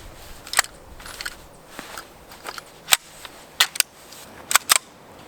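About half a dozen sharp, separate unsuppressed shots from a Ruger PC Charger pistol, irregularly spaced and ringing out over a quiet background.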